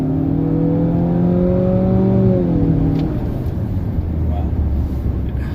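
Turbocharged four-cylinder engine of a 2019 Nissan Altima accelerating, a rising drone that climbs steadily and then drops back after a few seconds, continuous and close, heard from inside the moving car.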